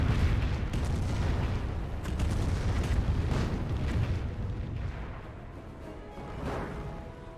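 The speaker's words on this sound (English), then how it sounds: "Got the fly through rocket barrage running in." A rocket barrage in the video game Company of Heroes, a dense run of overlapping booming explosions rumbling continuously and fading gradually toward the end.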